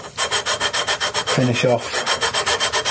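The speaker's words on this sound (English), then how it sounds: "hopefully wear down the extreme scratches with this sanding beam now" A sanding beam rubs back and forth on the wood of a Vintage (by JHS) Flying V copy guitar, in loud, regular strokes of about six per second, with someone briefly speaking over the middle.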